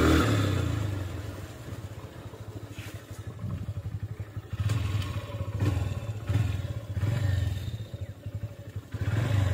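Several motorcycles, some carrying multiple riders, travel along a dangerous jungle road near Lataguri, with steady mid-pitched engine drone and rising revs that swell and fade repeatedly over continuous road noise and clatter.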